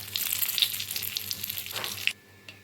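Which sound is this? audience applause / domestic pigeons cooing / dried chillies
dried chillies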